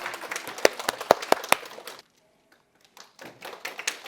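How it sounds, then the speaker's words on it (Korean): Clapping from attendees at a prenatal class prize draw, a burst of sharp, close individual claps for about two seconds, then a pause and scattered renewed clapping with some crowd noise. "1등은 큰 박수 부탁드리겠습니다."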